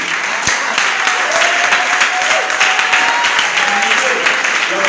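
A church congregation at a Sunday service claps in dense, sustained applause that fills the space, with voices rising faintly beneath the clapping.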